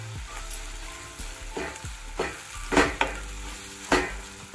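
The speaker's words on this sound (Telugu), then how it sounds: "కొద్దిగా పసుపు వేసి ఇలా కలుపుకుని" Chilli powder and turmeric are stirred into a frying Telugu prawn curry with tamarind leaves, a steady sizzle broken by several sharp scrapes and spoon knocks against the pan.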